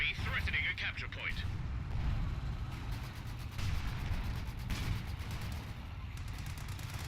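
Mortar shell blast in a WWII strategy game set in the Battle for Caen at Rauray, heard among dense battle noise with artillery and gunfire rumble throughout, sharp bursts near the start, and a voice commentating over it.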